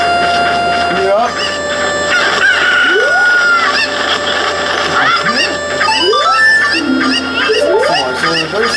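Cucco chickens from Zelda: Ocarina of Time Master Quest cluck and crow as synthesized game sounds over a steady musical background, with rising chirps and repeated clucks throughout.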